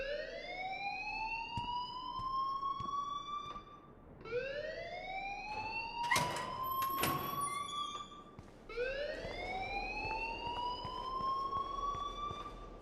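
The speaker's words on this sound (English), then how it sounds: "please turn off that alarm since that's your job" A school alarm in the Life is Strange video game wails in rising, siren-like sweeps, each lasting several seconds and repeating, loud and steady with a few sharp clatters in between.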